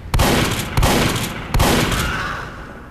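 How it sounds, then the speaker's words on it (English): Three loud, evenly spaced shotgun blasts from Team Fortress 2, each a sharp crack followed by a decaying boom, fired roughly every 0.7 seconds with no talk. "Shotgun!"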